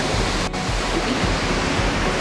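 A powerful mountain stream in Alberta's Ya Ha Tinda roars close and loud, a dense, unbroken rush of water with no pauses or voices.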